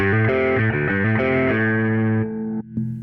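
Electric guitar through a Line 6 POD Express overdrive effect, with a thick overdriven tone, plays a short chordal riff, then lets the last chord ring out before a muted pluck.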